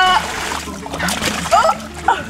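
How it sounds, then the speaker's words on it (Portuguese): Water from a bucket splashes down onto a person's head in a swimming pool, with several short, close splashes and sloshes while people's voices carry on around them. "Põe água na cabeça da titia"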